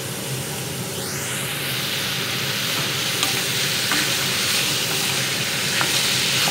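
Capsicum stir-fries with mushrooms and mixed vegetables in a hot pan, giving a loud, continuous hiss and crackle with scraping stirs throughout, and no talking.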